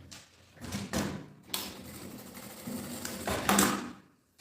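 A sewing machine stitches the lining of a messenger bag in short bursts, its motor whirring close by between brief pauses, with light handling clatter of fabric and parts and no speech.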